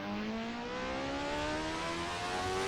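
A Radical SR4 race car in the racing game RACE Pro, its engine held high near the rev limiter, a steady, buzzing whine that climbs slowly in pitch and plays alone.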